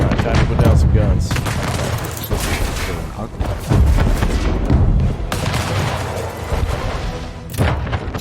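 Defensive guns fire in Anno 1800, a rapid fusillade of booming shots rolling on continuously with dense, loud bursts throughout, a voice partly underneath.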